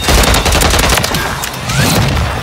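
Rapid, loud, dense gunfire from a Striker shotgun in Call of Duty MW3 search and destroy, a continuous blast of overlapping shots and booms filling the whole moment.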